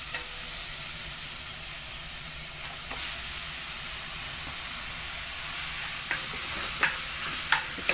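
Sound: onion being stirred and fried in a pan

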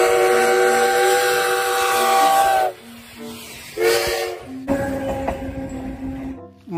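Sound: toy train sound effect

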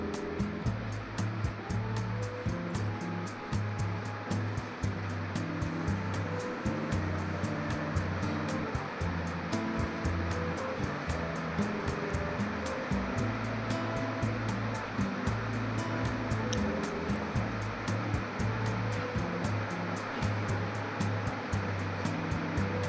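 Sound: mixer grinder grinding ingredients to a paste

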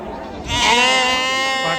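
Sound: sheep and goats bleating at a livestock market

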